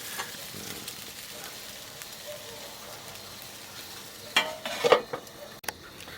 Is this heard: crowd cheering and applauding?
no